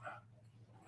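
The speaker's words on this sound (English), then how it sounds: "Sorry about the dogs in the background." Dogs whimper and yip faintly in the background of a room, a short high whine at the start and then low muffled sounds over a steady hum.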